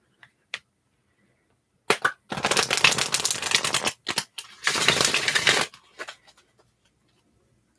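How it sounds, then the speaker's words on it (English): A deck of tarot cards being shuffled up close, dense riffling bursts of papery clatter in two long runs, with a few isolated taps and flicks before and after. "And I'm just going to shuffle your cards a bit."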